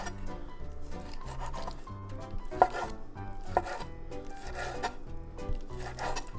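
Knife chopping lobster meat into chunks on a board for shrimp and lobster mac and cheese, a quiet, irregular series of soft thuds and scraping strokes, close by with no talk.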